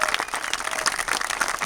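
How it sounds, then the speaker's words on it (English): An outdoor crowd at a National Trails Day trail celebration near Standley Lake claps in a brief, steady patter of applause, moderately close, with no speech. "Let's give them a round of applause for making it all happen"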